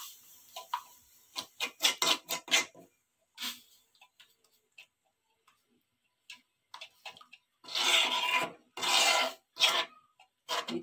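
Homemade hair dye serum, made from strained leaves, being stirred and mixed in a pan, giving bursts of scraping and rubbing strokes that come in irregular clusters, with a couple of longer, louder scraping passes near the end and short silent gaps between.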